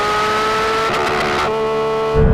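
Porsche 911 GT3 RS engine revving hard to the red line in gear, a loud sustained howl with rising harmonics and a brief shift-like break before the note carries on, ending abruptly.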